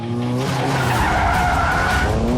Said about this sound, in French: À chaque virage, l'arrière chasse et il accélère tout en glissant.